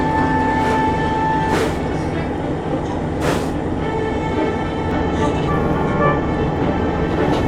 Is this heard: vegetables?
no